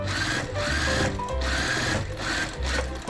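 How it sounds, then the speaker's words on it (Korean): Sewing machine stitching layers of fabric for a dog vest, a steady whirring run of close needle strokes with brief pauses, loud and near, no talk. "그런 다음에 다시 박아봐요."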